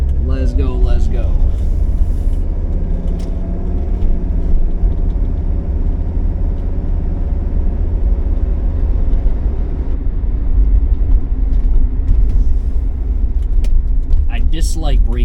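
A car rolls down a hill, its engine and road rumble a steady loud drone close by throughout, with a few brief rattles near the start and end.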